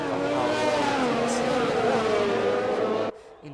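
Racing cars scream past on track at the Mexican Grand Prix, a loud, sustained high-revving engine whine with shifting pitch that cuts off abruptly near the end.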